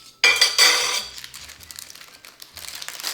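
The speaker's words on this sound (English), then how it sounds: "We open the paper" A parchment paper pouch of baked pesto salmon is torn and unfolded, giving close, loud crinkling and rustling bursts that taper into softer paper handling.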